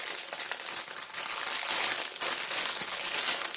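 Parcel packaging holding lace being unwrapped by hand, a close, continuous rustle and crinkle of paper or plastic with uneven bursts of crackling and no talking.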